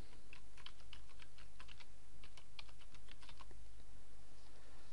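Someone types a domain name on a computer keyboard, a quick run of light clicking keystrokes in small irregular bursts, close but soft over a low steady hum, with no talking.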